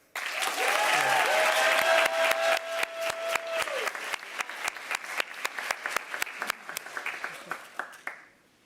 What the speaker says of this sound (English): I would still love if you could give a hand to our Mentor of the Year for Nova, Maria Sorto.